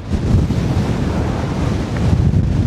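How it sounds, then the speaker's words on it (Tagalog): Strong wind on a mountain trail roars steadily into the microphone, a dense low rumble with gusty swells that rise near the end, no voices. "Lakas ng hangin."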